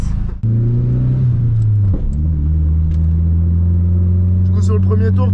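A turbocharged car's engine sits close and loud in a steady low drone, with two brief dips as the revs change, at a Japanese car track event.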